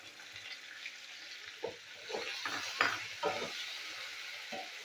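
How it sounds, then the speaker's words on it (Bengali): Chopped onions frying in a pan with a little salt for chicken masala, a soft steady sizzle under a run of brief scraping stirs and light clinks in the middle of the clip. "তো পেঁয়াজটা আমি ভালো করে ভেজে নেবো।"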